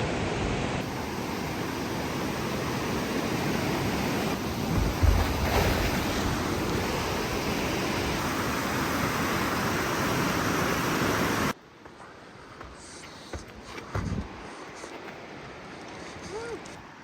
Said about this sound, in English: There's the river down there and pools up here.